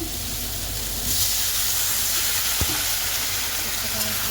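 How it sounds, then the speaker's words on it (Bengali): A frying mixture being stirred in a pan before water goes in, heard as a loud, steady sizzle and hiss with a few faint scrapes and one sharp knock near the middle. "নাড়িয়ে নিই এবার ভালো করে নাড়িয়ে একটুখানি জল দিয়ে দেবো"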